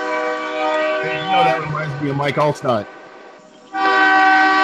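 A passing train sounds its horn in a long, loud, sustained blast that drops out briefly, then returns while someone talks over it.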